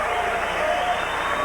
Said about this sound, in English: Jeff Zaffino applauding his opponent.